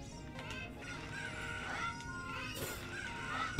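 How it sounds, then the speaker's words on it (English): Chickens cluck and call in the Ocarina of Time video game, several short fowl sounds scattered over a steady game background, no talk over them. "Just grab, like, every chicken."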